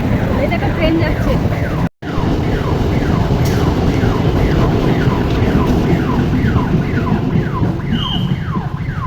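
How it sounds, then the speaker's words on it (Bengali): A train passes a busy crowded crossing with a loud, continuous rumbling roar, while a repeating warbling alarm tone rises and falls over it throughout. "এই দেখো ট্রেন যাচ্ছে।"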